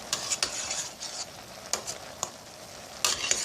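Vegetables sautéing in a pan with balsamic vinegar, a soft steady sizzle broken by a few sharp scrapes and clinks of stirring, close and fairly quiet with no talking.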